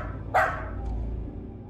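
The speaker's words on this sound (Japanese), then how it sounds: "撮影者の飼い犬がリビングの机が置かれた場所に向かって吠えています。" A pet dog barks once in a living room, a single sharp nearby bark followed by a fainter short yip over low background hum.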